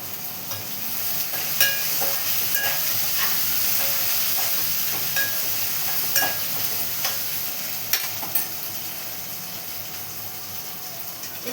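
Onions and two green chilies sizzle and fry in a pan while cooking bread upma, a steady hiss broken by scattered sharp crackles and spatters; no one speaks.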